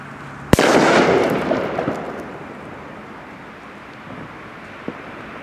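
A single sharp blast from a Funke China Böller D firecracker, very loud and close, followed by a crackling, hissing tail and a small faint pop a few seconds later.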